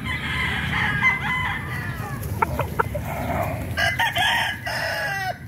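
A rooster crows clearly several times at a 4-cock derby in the Sta. Monica cockpit arena, with clucks and crowd murmur in the background of the open space.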